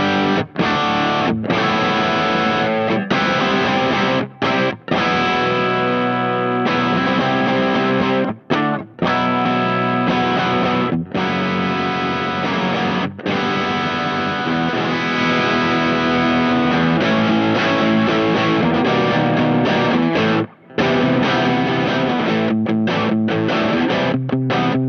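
A Fano Omnis MG6 guitar with high-output pickups drives a VS Audio Royal Flush overdrive in mild rhythm tones, with loud, continuous chords and riffs broken by brief stops, and no voice over it.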